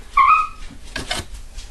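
Dogs playing noisily in a home kitchen, a single high yip or whine followed by a couple of short scuffling bursts, fairly close and loud, with no voices.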